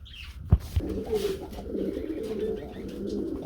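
Homa pigeons, a pair of running bar birds at a market, coo in low, soft, throaty bursts that carry on steadily near the microphone after two short knocks at the start.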